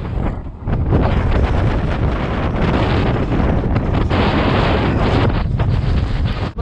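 Strong wind buffets the microphone while cycling through Zhunan Township in Taiwan, a loud, continuous roaring rumble that gusts and swells throughout with no voices.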